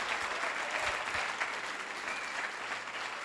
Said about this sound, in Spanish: Denle un aplauso al Señor porque Él nos va a recibir ahí en la gloria